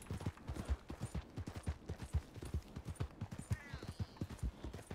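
Horse hooves pound while riding in the video game Red Dead Redemption 2, a steady, quick galloping clip-clop rhythm kept up throughout at a fairly soft level.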